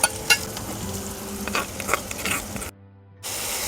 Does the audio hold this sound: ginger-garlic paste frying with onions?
yes